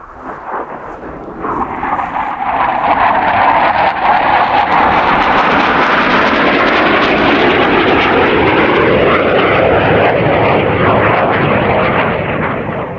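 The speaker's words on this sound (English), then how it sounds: "we're on the flight path of jet fighters" Jet fighter aircraft on training flights roar overhead, a loud, sustained broadband rumble that builds over the first couple of seconds and holds steady before easing slightly at the end, with no talking.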